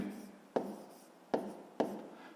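Pen or marker strokes writing a math answer by hand for a fifth-grade equation, with several short scratchy bursts starting sharply and fading, close and fairly quiet, no talking.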